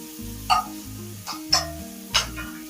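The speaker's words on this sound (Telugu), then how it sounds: "ఇప్పుడు ఇందులో కొంచెం ఆనియన్స్, 1 టేబుల్ స్పూన్ అంత ఆనియన్స్ వేసుకొని ఒకసారి కలుపు కొంచెం వేగనిస్తాను." Chopped onions sizzling in a hot pan with garlic while preparing veg Manchuria, a low steady fry under three brief clinks of stirring.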